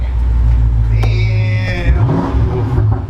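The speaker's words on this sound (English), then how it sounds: "Oh, that's some German muscle right there, that V8." BMW 750i V8 with its muffler deleted, a loud, deep exhaust rumble rising into a rev and settling back, close by, with a voice speaking briefly over it.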